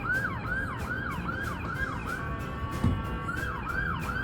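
An ambulance siren wails in a repeating rising and falling cycle as it passes near a hospital, heard from the street with steady traffic rumble beneath it and no voices.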